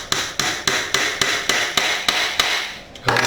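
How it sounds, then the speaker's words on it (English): A metal hammer drives a glued wooden dowel into its hole for a tansu cabinet, ringing out in eleven sharp, evenly spaced blows, close and loud, each strike's pitch rising slightly as the dowel seats home. "So you just put a little bit of glue on those ridges, stick it in the hole, and"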